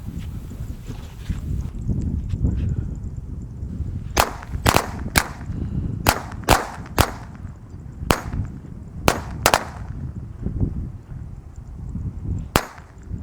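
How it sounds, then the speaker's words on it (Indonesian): A pack of Corsair matchstick firecrackers goes off outdoors in a string of sharp, loud cracks, about a dozen bangs spaced irregularly over several seconds, over a low rumbling background. "Ini mercon korek Corsair satu pak."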